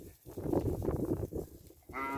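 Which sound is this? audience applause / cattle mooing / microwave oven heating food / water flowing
cattle mooing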